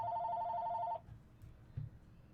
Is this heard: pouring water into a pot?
no